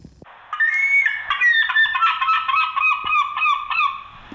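Children imitate seagull calls with their voices, producing loud overlapping squawking cries for about four seconds.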